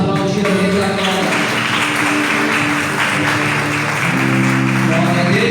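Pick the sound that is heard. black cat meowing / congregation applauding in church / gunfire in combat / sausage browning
congregation applauding in church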